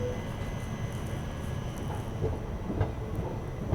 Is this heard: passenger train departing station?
yes